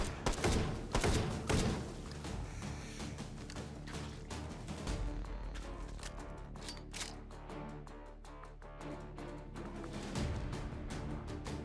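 Rapid gunfire from a shotgun loaded with Dragon's Breath incendiary ammunition in the VR shooting game H3VR, a dense series of sharp shots throughout, loud and continuous with no talking.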